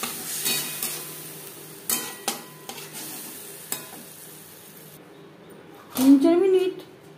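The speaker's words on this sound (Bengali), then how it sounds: "তিন 4 মিনিট ঢাকনা চাপা দিয়ে মিডিয়াম ফ্লেমে মশলা কষিয়ে নেব" Turmeric and ground spices with a splash of water sautéing in a pan over a medium flame, with soft sizzling and scraping stirs throughout and a brief voice near the end.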